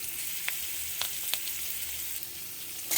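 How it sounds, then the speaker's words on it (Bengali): Asafoetida and chopped ginger tempering in hot white oil in a kadai for a capsicum potato masala fry, giving a steady soft sizzle with a few sharper crackles and pops, no talking. "আমি ফোড়নটা দিয়ে দিচ্ছি। হিংও দিয়ে দিলাম। আদা কুচি দিয়ে দিলাম।"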